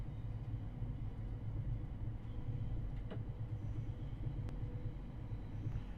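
A moving train carriage, likely a Class 375 on the Medway line toward Gillingham, gives off a continuous low rumble with faint clicks and rattles and no voices.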